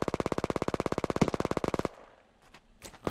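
Machine-gun fire in the video game Hell Let Loose, a loud, steady automatic burst of rapid, evenly spaced shots lasting nearly two seconds, then dropping to faint background battle noise.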